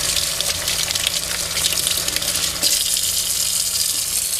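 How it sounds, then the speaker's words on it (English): Water runs from a tap for hand rinsing, a loud, continuous close-up gush and splash that holds steady throughout. "Turn your water back on,"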